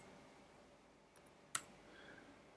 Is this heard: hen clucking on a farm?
no